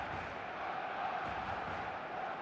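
A stadium crowd in the eFootball video game roars in a steady, dense wash of fervent match-day noise, continuous and far-reaching with no single voice standing out.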